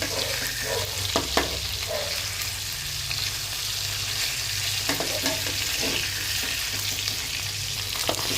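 Boal fish fries in oil in a pan kept covered with a lid, a continuous close crackling sizzle with a few sharper pops and spatters, steady throughout and free of voices.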